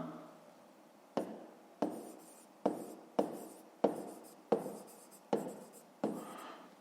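A pen writes on paper in a quiet room. There are eight close, crisp strokes, each starting sharply and trailing off, spaced at an even, unhurried rhythm.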